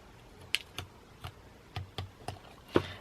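Scissors or a trimmer cutting paper card along a line for a Christmas card, several short crisp snips and clicks spaced irregularly, close and fairly quiet, with no talking.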